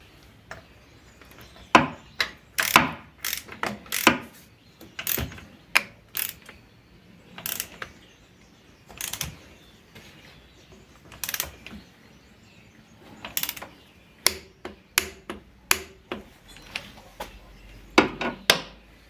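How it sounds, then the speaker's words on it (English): A wrench ratchets as bolts on an Alfa Romeo 33 1.5 boxer 8V engine are tightened to 40 newton meters. Sharp metallic clicks and clacks come in irregular bursts with short pauses, close up and without talk. "And now tightening again to 40 Newton meters around."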